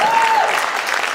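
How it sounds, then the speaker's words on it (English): Audience applause at a Latin Ensemble performance in a library, a steady dense wash of clapping filling the short moment without any speech over it. "How about a big hand for Mr. Dave Lowe?"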